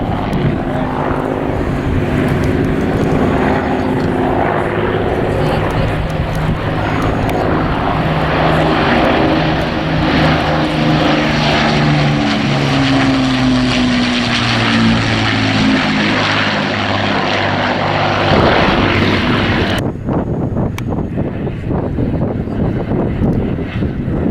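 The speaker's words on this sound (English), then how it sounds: "Return of the bomber." An Avro Lancaster bomber at the RAF Leuchars Airshow 2013, its four propeller engines droning loud and close as it passes, pitch sliding downward with wind buffeting, then cutting to a fainter rumble near the end.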